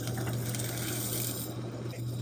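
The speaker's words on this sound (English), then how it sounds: "We're gonna add the rest of the water in here." Water is poured into a pot of Mexican tomato rice on high heat, making a steady, continuous rushing pour with no talk over it.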